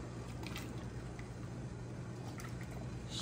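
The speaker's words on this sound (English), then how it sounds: "Put these in cold water." Blanched green peppers go into cold water with soft squishing, sloshing and dripping sounds over a steady low kitchen hum, close and fairly quiet.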